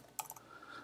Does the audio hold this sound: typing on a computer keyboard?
yes